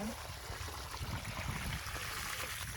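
Water pours from a bucket into a small hole dug beside a grapevine, a steady rushing splash that runs throughout, with a person talking over it.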